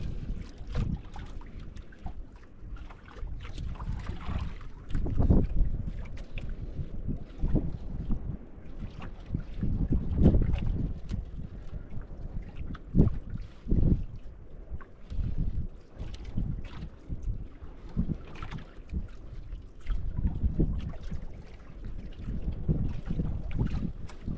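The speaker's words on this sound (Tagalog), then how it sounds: "Grabe hangin." Strong wind buffets a boat at sea during a fishing trip, roaring in gusty low rumbles with heavy microphone buffeting over a steady wash of water, with no voices.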